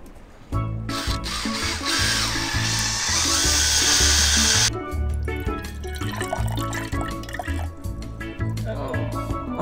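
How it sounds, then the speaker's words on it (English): A high-pitched power drill whines steadily for several seconds, boring into a coconut, then stops, leaving clinks and faint dripping. "we're drilling some coconut to have some rum and coconut"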